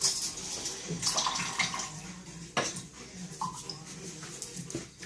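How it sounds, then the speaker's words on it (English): Water is poured into alcohol while making embeds for bath bombs, giving a faint, steady trickle and splash with small clinks, heard close. "And now I add a bit of water, so it's about to there now."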